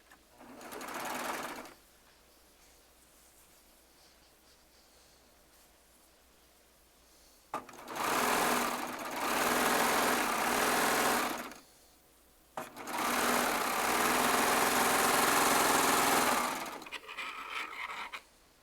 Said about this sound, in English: Last row of blocks to sew together.